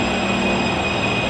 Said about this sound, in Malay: MRT kat Taipei.